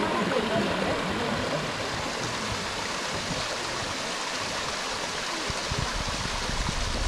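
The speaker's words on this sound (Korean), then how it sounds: "이날은 계곡에 물이 참 많았어요. 물소리를 들으며 힐링 기분의 시간을 가졌어요." A high-water mountain stream on Gwanaksan rushes steadily, a full, even wash of flowing water with no pauses.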